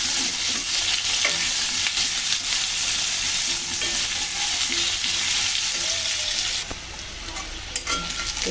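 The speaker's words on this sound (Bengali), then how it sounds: "কচুগুলো একটু ভালো করে নেড়ে করে নেব।" Taro pieces stir-fry with onion and garlic in a pan, giving a loud continuous sizzle with scraping stirs that eases slightly toward the end.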